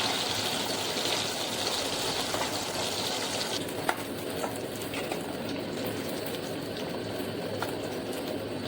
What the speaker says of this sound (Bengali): এইভাবে ফুটন্ত তেলে মাছগুলোকে ভালো করে উল্টে পাল্টে ভেজে নিচ্ছি আস্তে আস্তে।